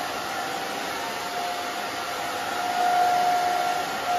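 A hair dryer blows in a steady, loud whoosh with a high motor whine, rising slightly in the last second and a half, with no voices.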